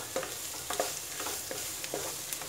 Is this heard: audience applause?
no